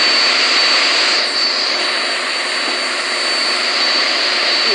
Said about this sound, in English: this is the first plane to actually fly straight